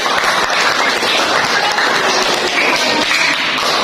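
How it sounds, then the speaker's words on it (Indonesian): A classroom audience applauds with steady, dense clapping that holds at an even level throughout, fairly loud and close. Nobody speaks over it. "tepuk tangan"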